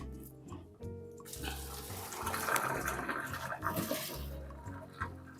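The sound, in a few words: boiled pasta and water poured into the sink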